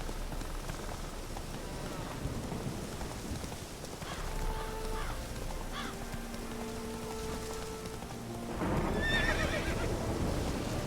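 Horse hooves and whinnies from a horse ridden in The Witcher 3, with steady rain pattering throughout and a louder burst of movement near the end; no talk.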